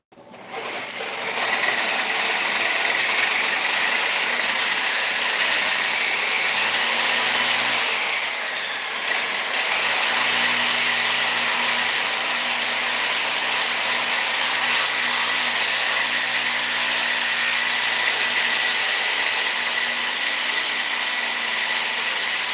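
A Sawzall reciprocating saw cuts metal for a custom hood reinforcement on a Lamborghini Terzo, a loud, harsh continuous buzzing grind that dips briefly midway, then resumes and carries on steadily to the end.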